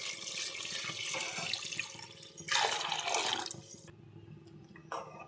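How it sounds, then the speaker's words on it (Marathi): Hot water pours from a vessel onto partly cooked mutton in a pot for a mutton biryani, a close, continuous gushing splash that surges midway, then cuts off, leaving a few faint drips and clinks. "2 तांबे गरम पाणी करून घेतलेलं आहे, त्यात आता हे गरम पाणी ओतून घेते।"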